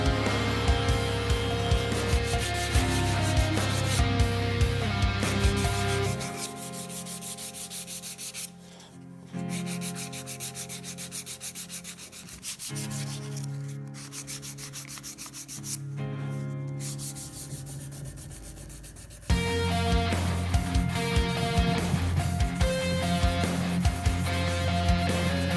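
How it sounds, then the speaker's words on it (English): Wooden trophy base parts with routed filleted edges are sanded by hand in steady, close, continuous rubbing strokes. The texture changes slightly in pitch and intensity across the passes, with no voices. "The wood would then be sanded to the desired finish."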